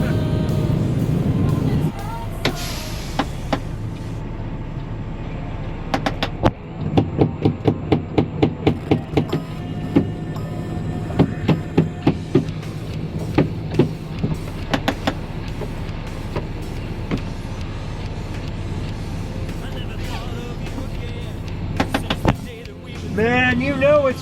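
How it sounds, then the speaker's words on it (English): An ice scraper knocks ice off a car's headlights in winter, giving a run of sharp, irregular hard knocks and scrapes, close and loud, over low vehicle hum and background noise, with a voice briefly in the mix. "you got to take an ice scraper to your freaking headlights"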